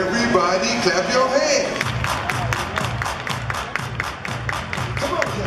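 An audience claps hands in a steady, rhythmic beat at a live gathering, many hands striking together in even repeated pulses, with a voice speaking over the clapping at the start.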